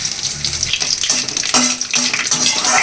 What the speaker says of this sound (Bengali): কড়াইতে দেখো তেল গরম হয়ে গেছে এর মধ্যে দিয়ে দেবো ফোড়নে তেজপাতা শুকনো লঙ্কা ও সাদা জিরে